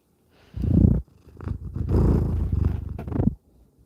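A house cat purrs close by in two loud, rumbling bursts, a short one followed by a longer steady stretch, with no talking over it.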